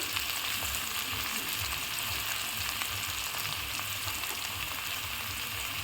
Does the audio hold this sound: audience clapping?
no